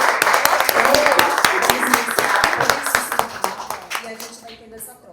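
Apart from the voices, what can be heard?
audience clapping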